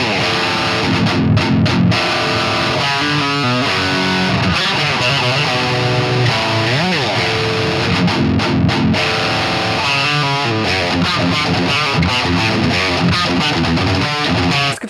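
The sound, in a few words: distorted electric guitar playing heavy chords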